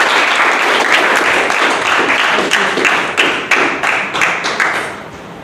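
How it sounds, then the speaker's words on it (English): Audience at a Toastmasters table topic contest breaks into loud, sustained applause, dense clapping close and full that thins into a few separate claps near the end. "Let's have a big round of applause."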